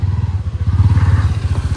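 A motorcycle engine runs close by with a steady, rhythmic low thrumming pulse that holds for under two seconds, with no voices over it.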